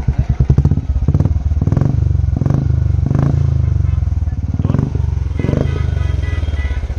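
A 2022 Royal Enfield Bullet Standard 350 motorcycle with dual exhausts idles loudly and close, thumping steadily, with periodic louder pulses and voices talking over it.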